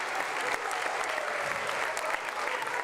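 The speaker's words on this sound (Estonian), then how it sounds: "Üle Eesti Viljandisse sõitnud publik tervitas noori näitlejaid ja kohale rutanud jõuluvana pika aplausiga." A theatre audience in Viljandi gives long, even applause for young actors and a Santa Claus after a Snow Queen performance, a broad steady wash of many hands clapping.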